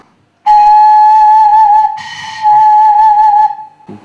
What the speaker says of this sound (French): Une autre technique, c'est la technique de la flûte oblique, où on vient souffler sur le côté comme ça